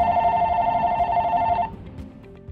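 An AT&T DLP73X90 cordless phone rings with a bright, steady electronic trill that runs loud for about a second and a half, then stops abruptly, leaving quiet room noise behind.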